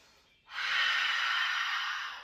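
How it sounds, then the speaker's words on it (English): An open-mouthed "ha" exhale, the heart healing sound in a yoga and qigong routine, a single long breathy rush that swells quickly and holds steady for about two seconds, close and alone after a quiet start. "we make the heart healing sound on the way down, the ha breath"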